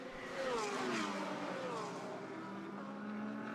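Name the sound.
purple Lamborghini GT race cars racing at Suzuka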